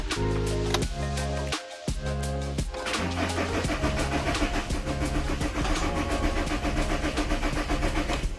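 A Volkswagen Caddy van with a starting problem cranks over in loud, repeated bursts, the starter churning with short pauses between attempts. A steady rough running drone follows, close and continuous.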